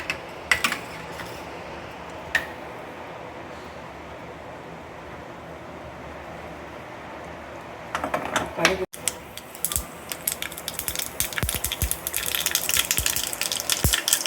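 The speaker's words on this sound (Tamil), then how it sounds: "அதில் கடுகு போடுறேன். கடுகு நல்லா பொரியணும்." Mustard seeds begin spluttering and popping in hot oil in a pan for tomato rasam, a quiet hiss at first that grows into dense, irregular crackles toward the end, with no talking.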